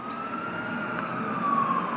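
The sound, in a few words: police siren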